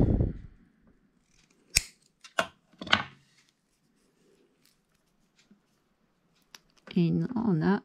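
Cutting pliers snip through a sticker embellishment in three sharp, separate clicks, followed by a brief burst of close speech at the end.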